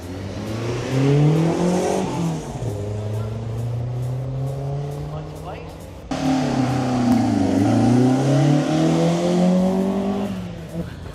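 Several race car engines, including a Subaru, idle and rev steadily as they warm up at a hill climb venue, rising and falling in pitch, close by and loud, with a brief drop midway.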